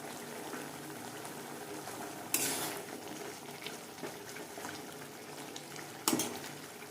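Bean leaf paturi simmering in a pan after mustard oil is added, a steady close bubbling and sizzling hiss throughout, with two brief louder clatters of utensil against the pan.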